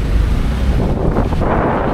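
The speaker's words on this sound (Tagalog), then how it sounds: "Maganda yung hangin" Strong outdoor wind buffets the microphone in a continuous loud roar during a day tour in Iloilo, with no voices heard.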